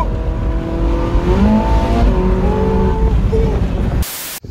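Ferrari 458 Italia Spider V8 engine, a 570-horsepower Italian sports car, roars loudly and continuously with rising and falling revs and shifting pitch, then cuts off abruptly near the end.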